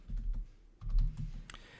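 Short bursts of computer keyboard keystrokes as commands are typed during an Arch Linux install, two quick clusters of close, crisp clicks with a brief pause between.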